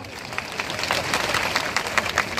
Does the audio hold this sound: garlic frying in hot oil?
no